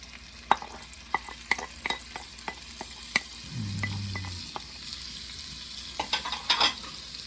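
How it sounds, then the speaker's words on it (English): Sauteed onions stirred into baked beans with bacon, with scattered spoon clicks and scrapes against the pot over a soft sizzle and a brief low rumble midway, close and unaccompanied by talk. "Next thing we're going to add is the sauteed onions."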